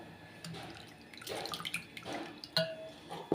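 Water from soaked toor dal being drained off, with soft pouring, splashing and a few drips in short bursts, moderately close in a kitchen.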